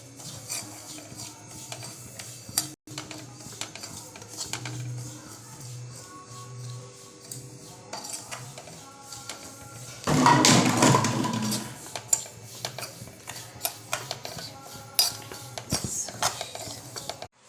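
Dry semolina is roasted in a kadhai for upma, heard as soft, intermittent scraping and light metallic clinks of stirring, with a brief louder rush of scraping near the middle.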